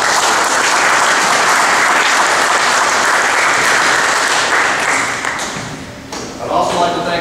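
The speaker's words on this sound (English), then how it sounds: "Can we give them a round of applause?" Sustained audience applause fills a banquet room at a district annual awards dinner, loud and dense for about five seconds before thinning and fading out, with a brief murmur of voices near the end.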